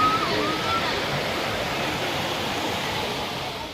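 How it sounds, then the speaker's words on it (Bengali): Water pours over the Mysore dam in the evening, a steady, broad rushing roar heard close up throughout. "এই যে মাইসোর ড্যাম, জল যাচ্ছে"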